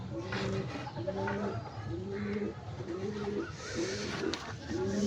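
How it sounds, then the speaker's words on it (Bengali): A pigeon sitting on eggs in a home loft coos in a steady series of low, rolling phrases, close and clear, with faint background hum. "আরেকটা পায়রা ডিমে বসে আছে এখানে।"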